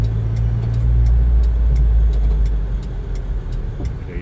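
A Toyota Kijang Kapsul driving fast in the fast lane, heard from inside as a loud, steady low engine and road roar with no speech over it.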